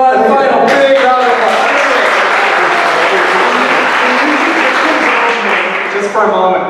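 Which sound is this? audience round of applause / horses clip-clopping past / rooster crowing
audience round of applause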